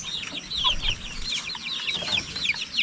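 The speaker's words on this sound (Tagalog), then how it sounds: "Yan yung natira sa ating manok." Chickens cluck in quick, overlapping bursts close by, a busy flock chattering continuously without any talking.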